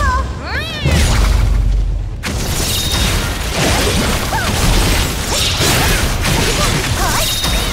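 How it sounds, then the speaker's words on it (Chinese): A bomb blast in the action game Honkai Impact 3rd, with booming, crashing impacts and whooshes layered over busy game music and effects, one heavy hit near the start followed by continuous loud combat clatter. "来个炸弹！"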